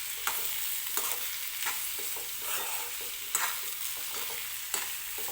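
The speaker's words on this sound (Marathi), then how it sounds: "तर आता छान असं मिक्स करून घेते मी बटाट्याच्या भाजीला." Potato bhaji being stirred in a frying pan for a dosa filling, with a spoon scraping and turning it in repeated strokes over a steady, soft sizzle, close and moderately quiet, with no talking.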